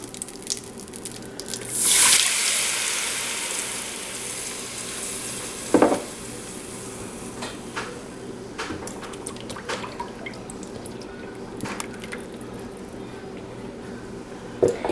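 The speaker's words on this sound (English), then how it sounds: "I'm going to add my 3 cups of heavy cream" Heavy cream poured into melted butter in a pan, heard as a brief liquid rush followed by a soft, steady sizzle with scattered drips and a few clinks.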